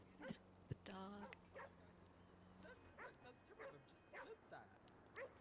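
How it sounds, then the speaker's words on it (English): A dog barks and yelps in a GTA roleplay game, several sharp barks and a drawn-out whine at a moderate distance, followed by people talking over faint background noise. "I swear we're gonna be dealing with this dog for a little bit"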